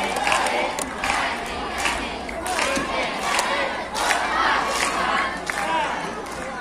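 A crowd at a Tainan cultural and educational association award ceremony for classics recitation welcomes a performing group with loud, lively clapping mixed with cheers and excited voices, surging in waves throughout.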